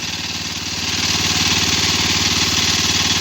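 An engine-driven water pump runs steadily close by, pumping water back for rice seedlings, with a loud, constant mid-pitched engine drone and pulsing throb throughout and no talk.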